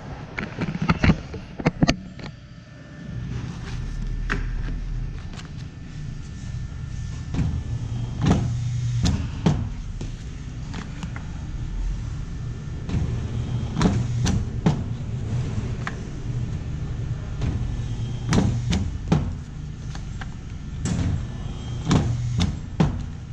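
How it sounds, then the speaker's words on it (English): A Challenge SCM single-round electric corner rounding machine, powered by 115 volts AC and worked with a foot pedal, punches through paper corners with a series of sharp clunks at irregular intervals over a steady low motor hum. "STM corner rounding machine"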